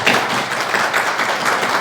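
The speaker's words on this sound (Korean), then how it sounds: "박수로 환영해 주실까요?" A church congregation applauds to welcome a visiting guest during Sunday worship, a close, dense burst of clapping that holds steady for a couple of seconds.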